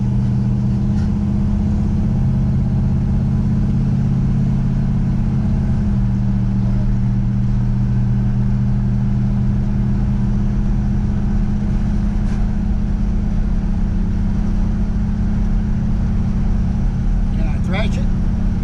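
Loud, continuous low engine drone from a car with an HP 440 V8 and freshly swapped Summit Racing cam cruising on a road, steady with a slight pitch shift partway through, a voice briefly heard.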